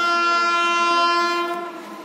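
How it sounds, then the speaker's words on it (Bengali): A train at Mankundu station sounds a loud, sustained horn, its steady tone fading in the last half second as the train moves past. "ট্রেন দেখছে।"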